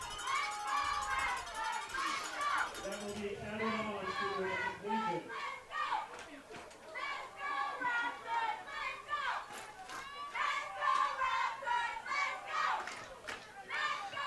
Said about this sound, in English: It's not just the high-pitched voices that are chanting.